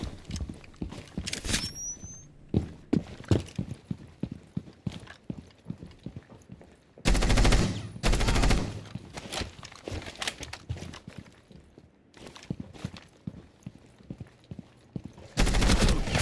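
Video game gunfire while aiming for headshots: sharp repeated shots and bursts across the stretch, with two louder, denser volleys standing out, plus scattered footstep-like clicks in between.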